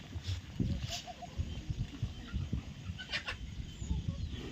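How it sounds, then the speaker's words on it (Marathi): Hens eat rice in a farmyard on a morning outdoors, clucking in soft scattered bursts close by, with a few sharper calls mixed in over a quiet background. "इकडं कोंबड्या तांदूळ खात्यात"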